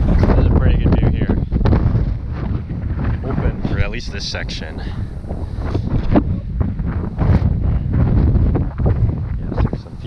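Strong wind buffets the microphone on Mount Greylock, a loud, continuous low roar with gusty surges throughout, while a person talks briefly under it.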